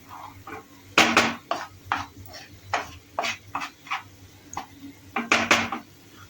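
A spatula clanks and scrapes against a pan as onion-spice masala for spicy vada usal is sautéed, with irregular metallic knocks and stirs, some loud and close, others softer, and no talking.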